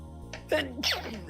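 A single sharp human sneeze, preceded by a short inhaled catch of breath, sounds close and clear over a low steady background hum.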